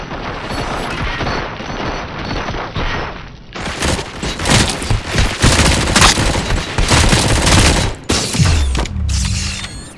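Heavy gunfire in RoboCop: Rogue City, loud rapid bursts and booming shots that erupt after a few seconds of quieter mechanical clatter, pausing briefly before resuming.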